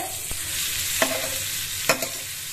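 Butter sizzling in a pan while making pasta sauce, a soft steady frying hiss with a few brief scraping stirs of a spoon against the pan.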